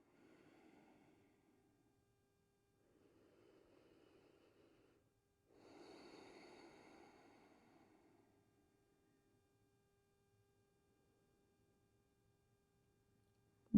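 Slow, deep breathing during a yoga session, resting in a prone position: three soft, faint breath cycles spaced several seconds apart, with quiet pauses between them and no voice present.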